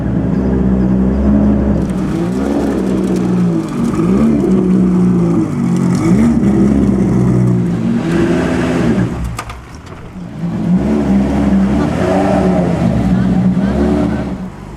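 The 7-liter, 12-cylinder engine of an Aston Martin at the Concorso Villa d'Este concours rumbles and revs loudly up close, rising and falling repeatedly amid crowd noise and voices.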